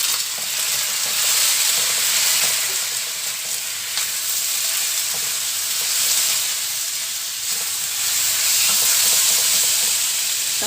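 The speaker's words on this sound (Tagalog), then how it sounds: "Ayan, pa-brownin lang po natin yung karne." Pork belly browns in a pan for Filipino pakbet, a steady broadband sizzle that swells and eases in waves throughout, close and fairly loud, with no talking.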